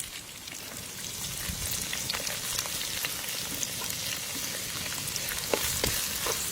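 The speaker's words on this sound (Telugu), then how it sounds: "ఈ ఆనియన్స్ కొంచెం వేగాలి." Chopped onions fry in hot oil in a pan with mustard seeds, fenugreek, cumin and bay leaves, giving a steady, dense sizzle with occasional sharp pops, close and continuous with no talk.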